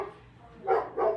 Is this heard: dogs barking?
yes